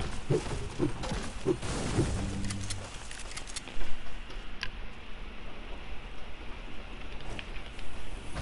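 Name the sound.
rain heard through microphone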